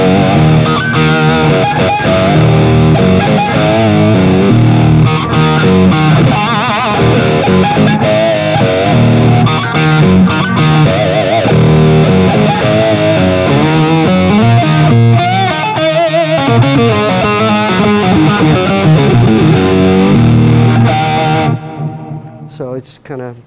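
An electric guitar plays through an octave pedal with distortion, thick and loud, in sustained riffs and runs that continue without a break before fading out at the end.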